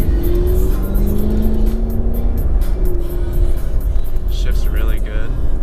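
Chevrolet Camaro SS V8 engine revving and accelerating through gear shifts on a street, a loud steady drone with rising and falling pitch, running under people talking in the car.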